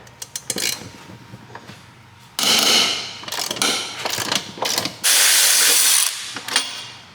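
A ratchet with a 14 mm socket works a transmission mount bushing bolt on a G35/350Z, in bursts of rapid clicking strokes separated by pauses and tool handling, close and loud.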